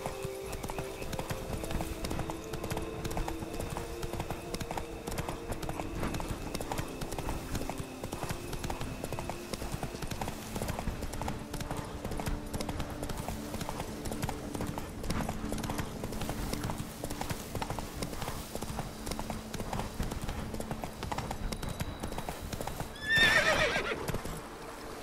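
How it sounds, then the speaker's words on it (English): A horse gallops in The Witcher 3 video game, hooves clip-clopping in a steady, fast rhythm for the whole stretch, with a sharp neigh breaking through near the end. "Whoa there, Roach."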